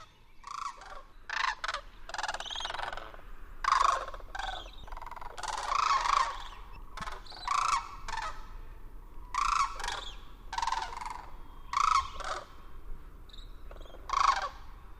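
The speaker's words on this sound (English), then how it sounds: "As the cranes slip to specks on the edge of hearing, follow their fading voices to the horizon of dinosaurs." Cranes call in Glacier Bay National Park, Alaska, their rolling, squawking cries coming in repeated bursts at a moderate distance over a quiet outdoor background.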